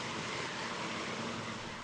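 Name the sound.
fire fighting helicopter flying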